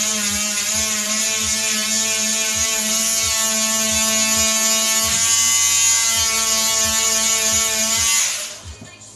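A small grinder buzzing steadily as it grinds built-up sap off cutting knives, a close, constant high-pitched whine with a faint regular ticking beneath, stopping abruptly near the end.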